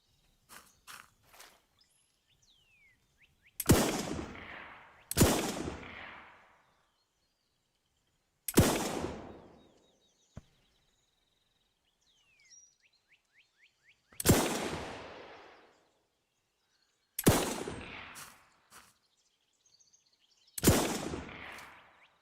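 Gunshots in the video game Alaska Gold Fever, six or seven loud single reports spaced a few seconds apart, each with a decaying echo, separated by near silence and faint clicks.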